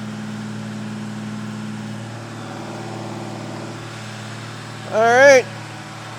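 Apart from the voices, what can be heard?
440 Mopar engine running during cam break-in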